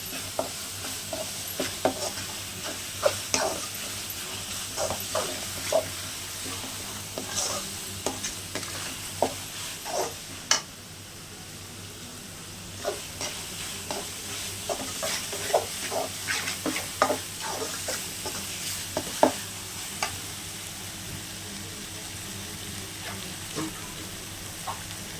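Egg podimas frying in a pan with turmeric added, a steady sizzle running underneath repeated scraping stirs that keep a busy, uneven rhythm throughout.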